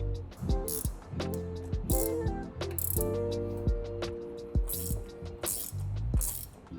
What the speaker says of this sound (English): We don't need to tighten it too much because these are lock nuts and they won't come loose.